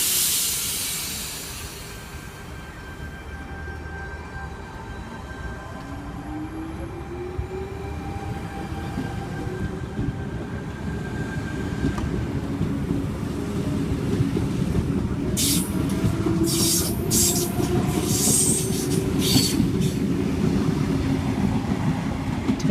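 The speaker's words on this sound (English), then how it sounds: "T89 and friend about to depart platform 4." Sydney suburban train, set T89 coupled to a second set, pulling out of platform 4 at Auburn station at night: a steady rumble and rising motor whine build as it departs, with hissing and clattering wheel noise later.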